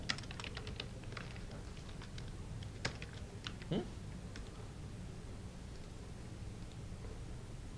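Fast, light typing on a computer keyboard, a loose run of soft clicks and taps heard fairly close over faint background hiss, with one louder knock near the middle.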